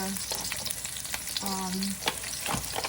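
Green beans and carrots hit a hot pan for an Asian cabbage stir fry and give off a lively crackling sizzle. Scattered pops and clinks sound over the steady frying hiss.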